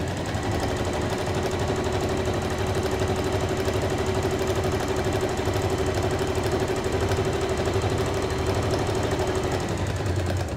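Electric sewing machine stitching fabric for a fold-over clutch bag, a fast steady mechanical rattle with a constant motor hum, running continuously and close with no talk.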